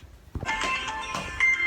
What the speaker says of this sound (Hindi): ये बीच वाले का फ़ोन आया था